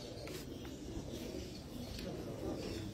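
Pigeons coo softly amid steady background noise on a rooftop loft in Dubai, a low murmuring texture running throughout without clear breaks.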